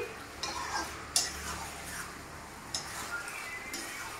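Chicken is stirred and sautéed in a pan without water, a soft, continuous scraping and faint sizzle close by, with a few light clinks of the spoon against the pan.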